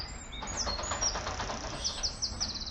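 Several birds chirp and whistle in woodland behind a garden allotment plot, in short high bursts, some repeated in quick series, over a soft outdoor background; fairly distant and gentle.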